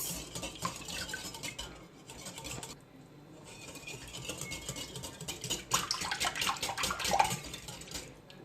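A utensil stirring sugar into pancake batter in a bowl, giving a steady close scraping and sloshing patter that grows busier toward the end, with no talking.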